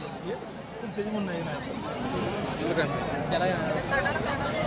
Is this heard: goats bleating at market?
yes